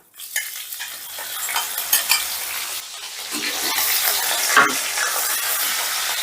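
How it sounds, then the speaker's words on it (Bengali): Close, continuous frying sizzle of grated ginger and chili with a spatula scraping and stirring around the pan, growing steadier and louder as it goes. "এবারে লঙ্কা আর আদাটাকেও একটু ভাজা ভাজা করে নেব মানে মিনিট খানিকের মতো নাড়াচাড়া করে নিচ্ছি"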